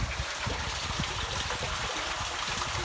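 Water flowing steadily nearby at a man-made lake, a continuous bubbling gurgle and trickle with no voices over it.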